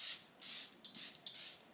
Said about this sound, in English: take a little bit of the Airbrush Flawless Setting Spray by Charlotte Tilbury, of course, and apply a little bit of this on.